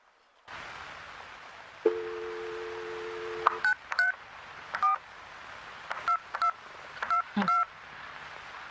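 A telephone number is dialed in a drama scene: a short steady tone, then a series of distinct touch-tone beeps pressed one after another at an uneven pace over a faint background hum, with no voices.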